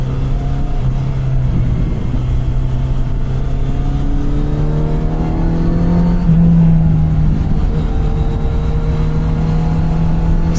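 A Kawasaki Z900 RS motorcycle engine pulls hard and revs up through rising pitch sweeps on a cross-country road trip near Zion National Park, loud and close with steady wind roar throughout.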